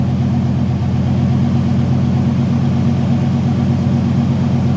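A rebuilt 1971 Plymouth Satellite wagon engine runs close by with its exhaust no longer dragging, idling in a loud, steady low rumble with an even pulsing throb and no pauses or talk.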